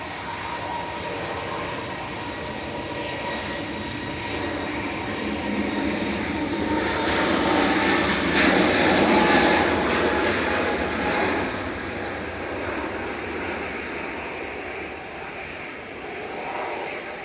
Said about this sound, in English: EasyJet departing now to somewhere that I can't see.